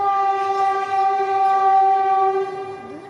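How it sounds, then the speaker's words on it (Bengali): A Vande Bharat Express train on the Siliguri–Kolkata route, watched from a rooftop, sounds a loud, sustained, steady horn for about three seconds. The horn fades slightly at the end. "এই যে চলে আসছে বন্দে ভারত"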